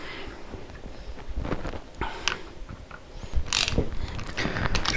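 Valve caps are tightened by hand tool on a Cat 5CP2120W pump, producing close irregular ratcheting clicks and metallic scrapes in short bursts.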